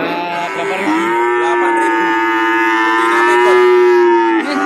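Javanese cattle calf at a livestock market, one long loud close moo held steadily for several seconds with a rich harmonic tone, heard alone.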